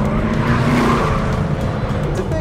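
Chevrolet Camaro ZL1 with 580 horsepower and wide tires cornering hard on a skid pad at a motorsports ranch, its engine a loud, steady roar with faint tire hiss throughout, no talk.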